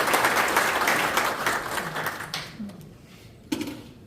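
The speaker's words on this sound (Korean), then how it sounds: "큰 박수 부탁드립니다" A crowd at a Korean railway policy debate applauds steadily, dense clapping that tapers off after a few seconds, with a brief voice at the end.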